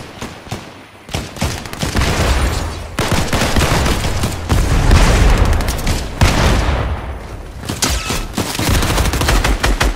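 Video game gunfire rattles in loud, rapid volleys, near and dense, with heavy booming impacts that keep up almost without pause.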